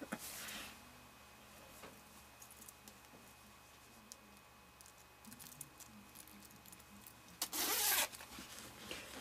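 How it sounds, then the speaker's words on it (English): Zipper being pulled on a zip-up paint shirt, with a short rasping zip at the start and a louder one near the end, among quiet rustling and handling noise. "Thank goodness it's a zip up."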